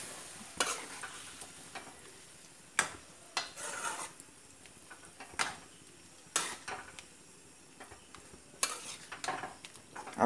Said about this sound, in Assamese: লাহেকৈ লৰাই দিছোঁ